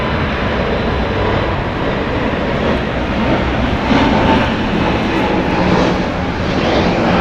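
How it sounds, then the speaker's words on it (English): A brand-new Spirit Airlines Airbus A320neo departing runway 25 left at LAX, a loud continuous jet roar that swells slightly midway, with no voices. "Departing here is Spirit Airlines Flight 88, just 888, going to Columbus. It's a Airbus A320neo."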